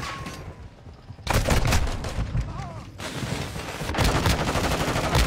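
Heavy gunfire from an enemy in Elden Ring, the video game, pounding the player in loud, broadband bursts that swell and pause, with a brief gap before another sustained barrage.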